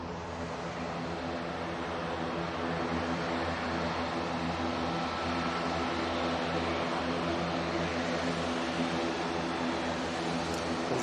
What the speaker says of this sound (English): There's that CFM Leap 1B there for Ryanair